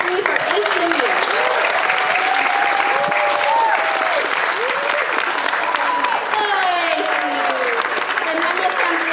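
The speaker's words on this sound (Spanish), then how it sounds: "vamos a dar un aplauso a Yocasta Genao" Loud, dense applause from an audience honoring a long-serving worker, continuous clapping that holds steady throughout, with voices talking and calling out over it.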